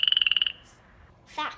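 A frog croaks in a quick rapid train of about a dozen pulses, close and loud, then goes quiet before a brief higher squeaky sound at the end.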